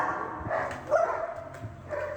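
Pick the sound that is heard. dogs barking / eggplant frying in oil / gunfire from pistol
dogs barking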